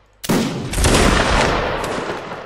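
Musket volley in the video game Mount & Blade: a sharp initial crack, then a dense, loud rolling roar of many shots that fades slowly, heard on its own without talk.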